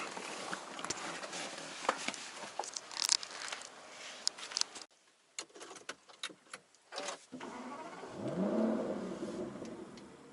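Inside a Ferrari 575 Maranello, the electric power seats whir in short motor bursts as they adjust, with faint clicks and rustling at close range and no speech.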